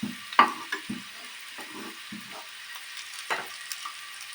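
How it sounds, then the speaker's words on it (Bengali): Potatoes frying in oil in a pan give soft sizzling with intermittent stirring scrapes and clinks, close and moderately loud, with no voices. "একদম রেড করে আমরা ফ্রাই করব না, হালকা করে লাল লাল করে ফ্রাই করব"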